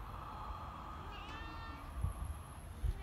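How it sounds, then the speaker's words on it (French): A small cat passing by meows a couple of times during a home mobility routine, soft, short calls over a steady room hum, with no talking. "On dit bonjour au petit chat qui passe"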